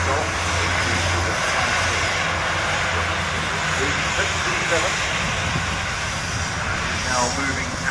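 A large aircraft at the Farnborough International Airshow 2016, heard as a sustained loud engine roar that holds steadily for several seconds, with a low drone underneath and a person talking faintly over it.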